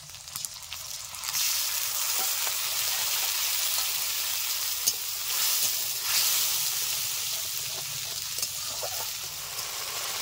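Tomato puree hits a pan of frying onion and ginger-garlic paste, and a soft, steady sizzle with a faint watery hiss rises after a quiet start and carries on evenly at low volume.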